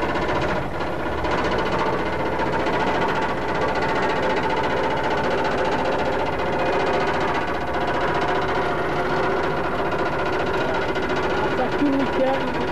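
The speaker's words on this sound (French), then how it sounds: "vous allez voir déjà la capacité du véhicule à monter tout doucement" Engine of a 4x4 vehicle labouring steadily as it creeps slowly up a slope at an off-road driving school, a continuous low rumble with a knocking, vibrating texture throughout.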